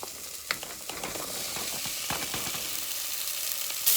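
Chopped onion, carrot and sweet potato sauté in a hot pan, giving a steady sizzle with scattered crackles and stirring scrapes, close and fairly quiet, with no talking.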